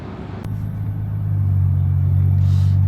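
A car engine idles and rumbles steadily on a street in Japan, a low continuous drone that grows slightly louder and closer over a few seconds, with no talk over it.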